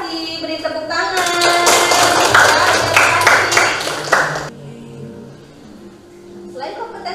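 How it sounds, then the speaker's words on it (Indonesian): Classroom applause from a group of students during a two-dimensional art lesson: a burst of clapping lasting about three seconds, loud and close, that fades into low murmuring and a voice at the end. "Beri tepuk tangan."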